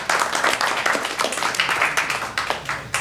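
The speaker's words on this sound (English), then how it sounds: "Let's give these guys a round of applause." A small group at a Yankton County commission meeting claps, a brisk, close round of uneven hand claps that holds steady for a few seconds.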